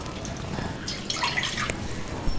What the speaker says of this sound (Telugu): పప్పు ఉడకడానికి సరిపడా నీళ్లు వేసుకుందాం.